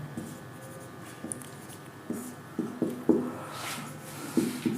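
Marker or chalk writing a question on a board during a physics lecture, with soft scratchy strokes in short bursts, close and fairly quiet, no talking.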